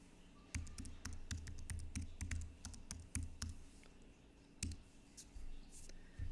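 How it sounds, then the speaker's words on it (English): Someone types on a computer keyboard, with quick, irregular bursts of close, crisp key clicks and short pauses between them. "in search the store, type Screencastify"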